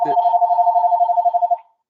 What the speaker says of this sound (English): I'm not sure where that ringing is coming from